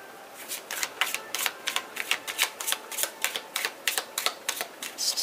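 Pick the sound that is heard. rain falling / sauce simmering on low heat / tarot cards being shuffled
tarot cards being shuffled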